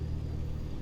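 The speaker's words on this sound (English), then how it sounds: "we're going to let the engine warm up a little bit" A Cessna 152 engine idling while warming up in Microsoft Flight Simulator 2020, a steady low rumbling drone on a cold, near-freezing day.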